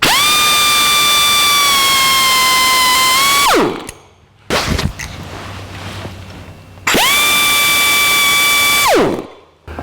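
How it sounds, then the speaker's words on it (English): A cutoff wheel cuts fuel hose during a fuel line build on a 1949 Chevrolet gasser: the loud, steady, high tool whine runs, spins down, leaves a short stretch of gritty cutting noise, then spins up again and winds down. "The best way I've found to cut this hose is with a cutoff wheel."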